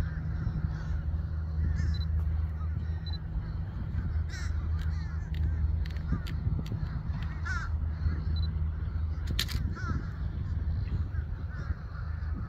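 Crows cawing near an evening sunset spot, several harsh calls scattered across the stretch, mostly at a middle distance over a steady low rumble of outdoor background noise.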